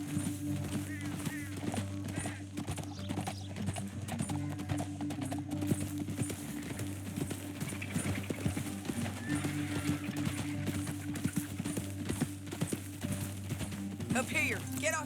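Horse hooves clip-clop in a quick, steady gallop while riding in Red Dead Redemption 2, a continuous rhythmic drumming with an occasional whinny, layered under game music and voices talking.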